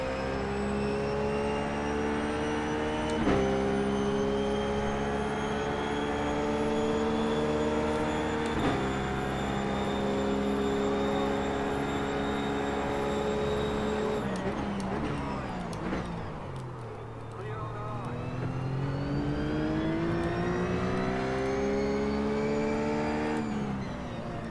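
McLaren GT3 race car in iRacing lapping Road America, its engine droning steadily under load with rising and falling pitch as it shifts gears, a brief lift and dip mid-run before accelerating again, with talk over it.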